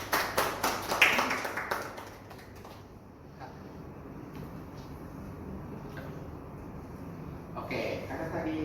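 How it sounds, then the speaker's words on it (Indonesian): A classroom of students briefly claps for a classmate named Raja, a quick burst of close applause that fades within two seconds into quiet room noise and faint murmuring. "kita beri aplaus ya untuk Raja"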